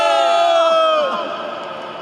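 A graduation crowd at the University of Washington commencement shouts a loud, sustained team chant together, the voices blending into a strong ringing cheer that holds for about a second before tapering off.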